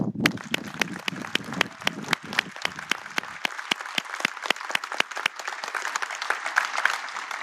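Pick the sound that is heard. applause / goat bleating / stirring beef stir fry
applause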